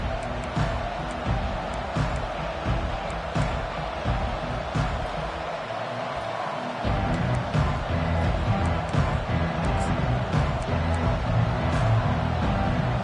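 Steady stadium crowd roar from an NCAA 25 college football video game, a dense continuous wash of noise that dips briefly midway then swells back up, with occasional sharper shouts poking through.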